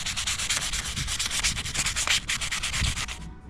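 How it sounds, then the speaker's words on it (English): Steady hand sanding on metal, a raspy back-and-forth scraping in quick repeated strokes, close and continuous until it stops near the end. "I don't have to do a whole lot of sanding"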